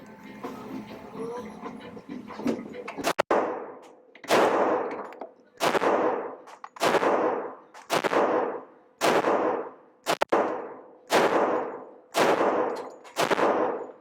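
Ten pistol shots from a new Glock fired at a target 15 yards away, sharp loud reports spaced about a second apart in a steady rhythm, each followed by a short ringing decay, with no talking.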